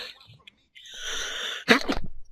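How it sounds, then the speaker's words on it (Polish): A single sharp sneeze bursts out close to the mic after a longer breathy inhale during a GTA IV shooting gameplay session, followed by a short trailing burst. "Kichnąłem, przepraszam."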